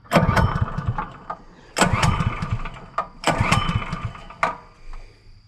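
A farm water pump engine is cranked several times, each pull bursting into a few seconds of loud, rough sputtering close by before dying back, with brief pauses between attempts and no talking.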